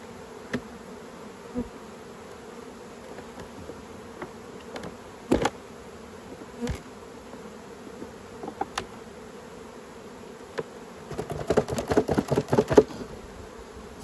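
Honey bees buzz around an open hive during autumn beekeeping, with a low steady hum broken by sharp close passes of single bees and a denser burst of buzzing near the end.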